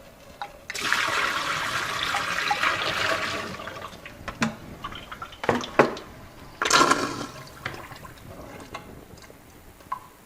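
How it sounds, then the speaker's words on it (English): Water from a bucket used for soaking microgreen seeds is poured out in a long gushing splash, then trickles, followed by a second shorter splash and scattered knocks of the bucket, near and loud. "and then I'll just dump this bucket out."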